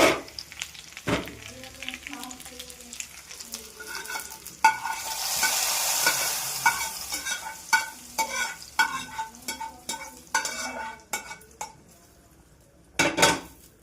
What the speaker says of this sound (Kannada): ಈಗ ಸಾರಿಗೆ ಮಿಕ್ಸ್ ಮಾಡ್ತೀನಿ